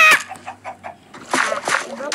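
Minecraft chickens cluck in short soft bursts inside the game, a few brief calls near the start and then louder clucks later, with voices talking over part of it.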